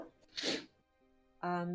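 A single short sneeze bursts out close by, followed by a moment of quiet and then a person starting to speak.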